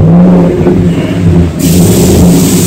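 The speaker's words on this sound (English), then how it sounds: "It's sad, I don't even get to crank my truck." A truck engine revs hard and loud right up close, a continuous deep roar with slight rises in pitch and no talking over it.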